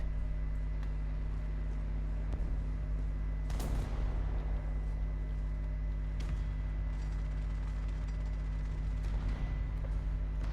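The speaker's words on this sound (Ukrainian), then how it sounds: "Ну то хоч попробую стріляти." Heavy booming shots from a tank cannon in War Thunder, a few sharp blasts spaced apart over a constant low engine rumble.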